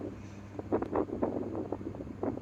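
Strong desert wind buffets the microphone in uneven low gusts, rumbling steadily with no voices, in hot weather in Saudi Arabia.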